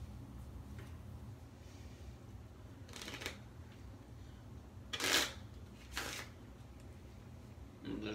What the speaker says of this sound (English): first I'm gonna shuffle the cards